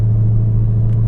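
A Dodge Hellcat with a supercharger and a velocity stack intake idles with a deep, steady rumble, and a faint whine runs underneath. The sound is close, loud and continuous, with no voices.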